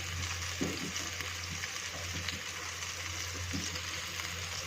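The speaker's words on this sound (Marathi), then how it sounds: "आपण तव्यात बसेल तेवढे सगळे फिशचे तुकडे त्यात टाकणार आहोत" Fish pieces sizzle and crackle in hot oil in a pan, a steady frying hiss with a few louder spatters, close by and without speech.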